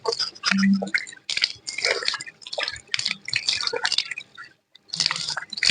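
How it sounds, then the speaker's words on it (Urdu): Water swished and rinsed in the mouth during wudu ablution, wet squishing and dripping bursts in an irregular rhythm, close and fairly loud, with brief pauses between splashes and no talking. "منہ میں پانی ڈالنا۔"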